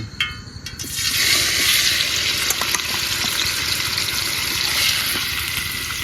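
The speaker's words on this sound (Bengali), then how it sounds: "তেল গরম হয়ে গেছে পেঁয়াজগুলো আগে দিয়ে" Onions dropped into hot oil hiss and sizzle loudly after a brief quieter moment, a steady bright frying crackle that continues without pause.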